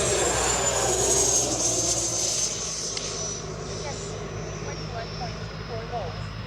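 EFlite 90mm Viper RC jet flying past at a field in New Orleans, its loud whining turbine tone sliding gradually lower as it moves away, with a person talking over it.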